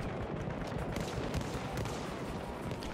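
Dense, continuous gunfire from the Battlefield 1 video game, a steady clatter of rapid shots and distant blasts with no pauses, loud and busy throughout.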